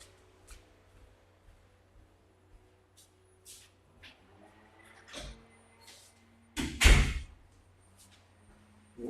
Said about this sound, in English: Hang on, I'm going to shut this door.